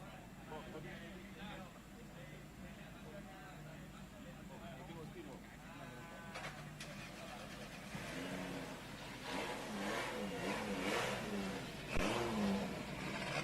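Drift cars, a Nissan S14 and a Nissan R32, rev their engines at a drift competition in Malaysia, the revs rising and falling, fairly distant under steady commentary that talks over them throughout.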